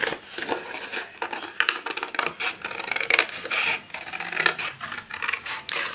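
Scissors cutting an egg shape out of card for an easy Easter greeting card, a run of close, crisp snipping and scratchy paper-rustling strokes with brief pauses between cuts.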